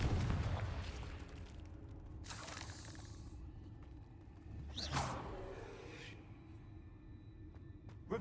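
In Hogwarts Legacy, a Confringo blasting spell goes off: fairly faint whooshing bursts, each ending in an explosive pop, two standing out with a few seconds between them over quiet game ambience.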